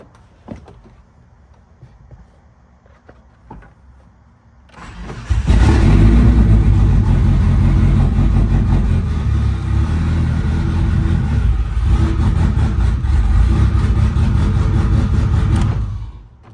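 A car with a built motor and a clutch switch cranks and fires up after some soft clicks and knocks, then runs loudly and steadily at close range for about ten seconds before cutting off.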